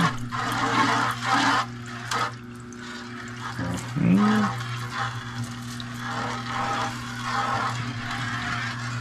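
Running water pours and trickles steadily as clay is washed out into a sluice, a continuous wash of flow with brief gurgles, close by and alone.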